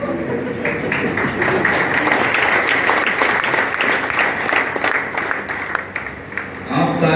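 Sustained audience applause fills a meeting hall in Siwan, Bihar, a dense wash of many hands clapping at steady loudness for several seconds before briefly thinning near the end.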